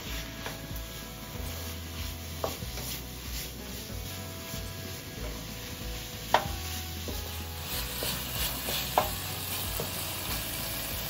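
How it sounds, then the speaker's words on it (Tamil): Tomatoes sizzle steadily as they fry, with the pan stirred now and then, occasional scraping and light clinks of a spoon, continuous and close. "அது இது கூட சேர்த்து வதக்கிக்கலாம்."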